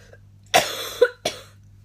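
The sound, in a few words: coughing fit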